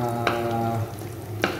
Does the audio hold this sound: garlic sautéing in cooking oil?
yes